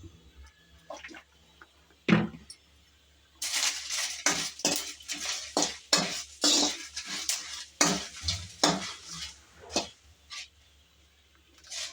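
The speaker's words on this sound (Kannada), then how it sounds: "ಮೆಣಸಿನ್ಕಾಯಿ ಚೆನ್ನಾಗಿ ಹುರಿಬೇಕು ಸ್ವಲ್ಪ ಕೆಂಪಿಗೆ" Dried red chillies roast in a little oil, stirred with a metal spoon against the pan: a single clank, then a run of rapid scraping and rattling strokes, close by, with quiet pauses between bursts.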